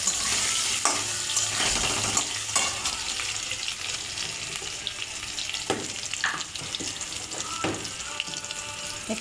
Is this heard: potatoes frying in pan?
yes